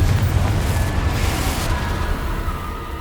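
A Confringo fire spell explosion in Hogwarts Legacy on PS5, a loud, deep rumbling boom that decays slowly over a few seconds, with no talking.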